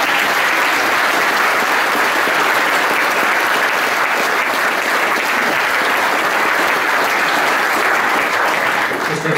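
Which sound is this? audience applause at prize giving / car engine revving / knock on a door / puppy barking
audience applause at prize giving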